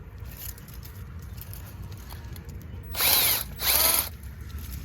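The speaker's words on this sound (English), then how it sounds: "stick my drill in" Two short, loud bursts of a power drill whirring as it bores a hole in garden soil, each about half a second, standing out over a steady low outdoor rumble.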